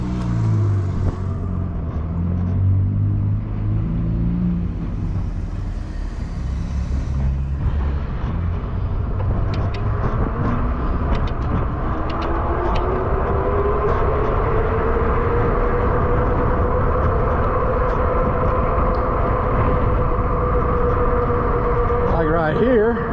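Polarna X-01 electric bike motor running under way, a steady rumbling drone with a rising whine over wind and road noise, with a person talking at the start.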